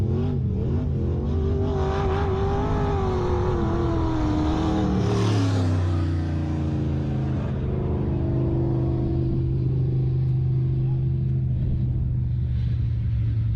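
WISSOTA Midwest Modified race cars roar around Lake of the Woods Speedway during a heat race, their engines rising and falling in pitch as the pack passes, then settling into a loud, steady droning rumble.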